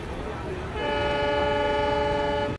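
Passenger train travelling toward New Delhi, a steady rumbling roll of wheels on rails that swells after the first moment and carries sustained tonal whine or horn-like tones, close and continuous throughout.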